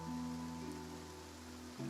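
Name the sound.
rain falling in Fontaine, from the video game Genshin Impact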